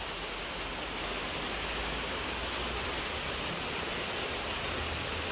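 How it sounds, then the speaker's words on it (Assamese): Heavy rain pouring down on a garden, a dense, even roar of falling water that holds steady and loud from start to finish with no voices. "পূৰা এতিয়া দপদপীয়া বৰষুণ আহি গ'ল"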